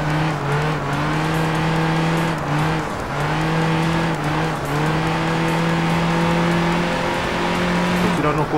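A flat-twin (horizontally opposed two-cylinder) car engine in the Enthusia racing video game, a loud continuous buzzing drone with rising and falling pitch as it accelerates and shifts, steady throughout with no talk.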